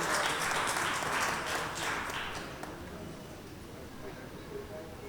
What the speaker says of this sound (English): Ladies and gentlemen, a big round of applause for Lahana and the team